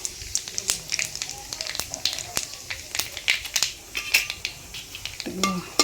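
Whole cumin and black cumin seeds crackle in hot oil for a Bengali cucumber dish, with scattered sharp pops and spits over a quiet background and a voice faintly present.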